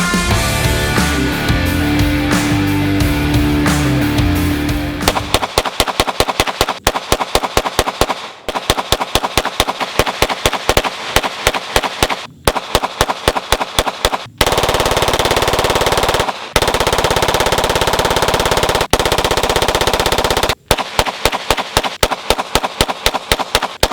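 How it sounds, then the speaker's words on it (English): Rapid gunfire from a select-fire gun with a Holosun 508T optic during a 500 round burn down, loud close bursts of automatic fire with short pauses between strings and a stretch of dense music at the start. "here is your 500 round burn down"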